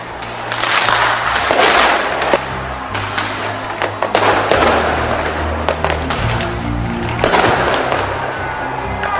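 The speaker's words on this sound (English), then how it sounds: "firework." New Year fireworks in New Zealand bursting loudly and repeatedly, sharp cracks and booms layered over a continuous crackling roar, with a steady hum running beneath.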